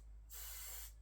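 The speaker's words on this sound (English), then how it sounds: "I'm going to spray these away from the board." A single aerosol burst of varnish sprayed onto model railway hedges for OO or N gauge scenery, a steady close hiss lasting about half a second, then cutting off.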